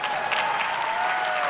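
Audience applause at a Harvard Class Day 2026 address, a steady, dense wash of clapping from a large crowd sustained through the whole moment with no break.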